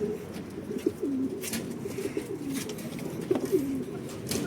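Pigeons or doves coo softly outdoors during a long club cycling training ride, a few low burbling calls over a breezy background.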